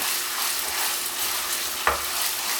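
Thai Panang curry paste fries in a pan with a steady, broadband sizzle, broken once by a brief knock of a utensil against the pan near the end; no one speaks.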